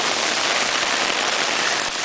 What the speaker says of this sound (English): This is some rain